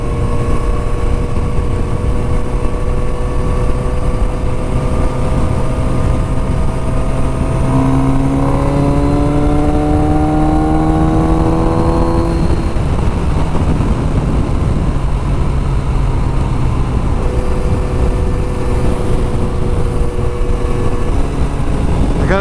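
Kawasaki motorcycle engine pulling hard in sixth gear while riding, a loud, steady drone whose pitch climbs smoothly under strong wind rush, then settles and holds, with no voices.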